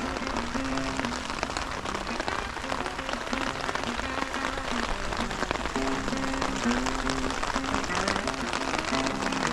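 Continuous patter of rain falling on a surface at a camp along the Danube River, dense and steady throughout, with no voices.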